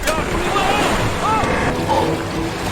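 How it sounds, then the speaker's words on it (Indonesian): A sudden storm at sea brings steady wind and surging waves, loud and close, with a voice speaking over the rush. "Namun saat di dalam laut, tiba-tiba badai terjadi sehingga terseret arus hingga beberapa meter."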